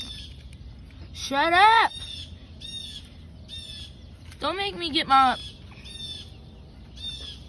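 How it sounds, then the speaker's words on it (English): A bird squawks and caws in two loud, harsh, rising bursts separated by a pause, with fainter calls between them while a person talks nearby. "Can that bird shut up?"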